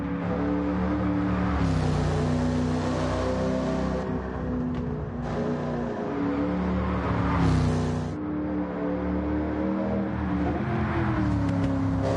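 A Pontiac Firebird Trans Am's 5.7-liter LS1 GM V8 drones and revs steadily in Gran Turismo 7 on the Nordschleife, loud and continuous, pitch rising and falling as it accelerates.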